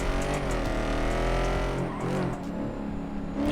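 A car in the video game GTA 5 speeds through traffic, the engine roaring loud and steady, then revving down with a brief tire squeal as it weaves past other vehicles.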